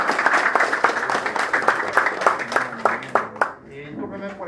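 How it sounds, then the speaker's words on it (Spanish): Audience applause for a speaker after a talk, steady clapping that thins and stops partway through, after which a voice begins speaking. "quisiera pedirle con un fuerte aplauso"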